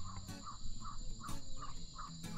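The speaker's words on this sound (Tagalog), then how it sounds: "Huni ng ibon, no?" Birds call in a quiet mountain setting, short repeated chirps at a steady rhythm, fairly faint against a soft background hum.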